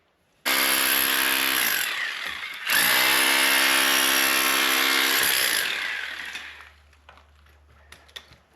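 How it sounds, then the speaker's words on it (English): An electric chisel deepens a cut in a termite-damaged 6 m wooden beam: two loud, sustained buzzing runs with a brief break between them, then the motor winds down to silence with a few small knocks. "So I'm going to go back over with an electric chisel to make it deeper"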